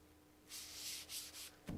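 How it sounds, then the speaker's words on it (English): Wet 500-grit sandpaper rubs across a Honda Civic Si car hood in a few short, soft strokes, a quiet hiss-like scrubbing with small pauses between passes and no talking. "wet sanding with 500 feels weird"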